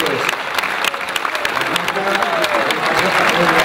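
Steady applause from a crowd at an Argentine barbecue championship, a dense continuous clatter of clapping hands lasting throughout, fairly loud and close, with voices mixed in beneath.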